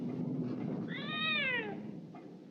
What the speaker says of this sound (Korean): 고양이에게 밥을 주는 로제티